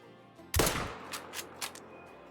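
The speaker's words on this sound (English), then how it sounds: "Absolutely perfect shot." A single sharp rifle shot rings out in theHunter: Call of the Wild, a loud close crack with a long rolling echo trailing off, followed by a few faint softer knocks.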